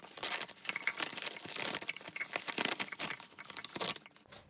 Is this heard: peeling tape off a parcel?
yes